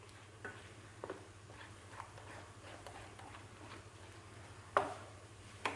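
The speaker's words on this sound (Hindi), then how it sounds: "ऑयल शामिल करने के बाद आपने दोबारा इसको मिक्स करना है" Egg khoya halwa with oil being stirred in a pan, giving quiet scraping and clinking of a spoon with a soft sizzle beneath, a few sharper taps standing out, close and faint with no voices.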